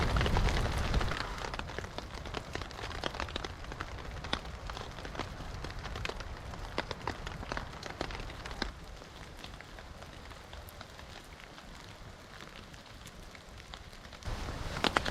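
Steady rain patters down on a spring forest campsite in the taiga beside a crackling campfire at night, a dense continuous hiss close by with occasional sharper drips and crackles.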